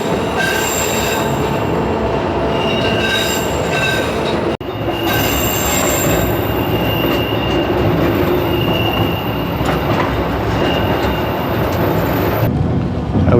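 A scenic tourist train in Alaska rumbles steadily along the rails, wheels squealing and clattering loudly with a sharp jolt partway through, heard from onboard.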